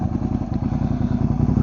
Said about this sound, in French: Le son du bicylindre.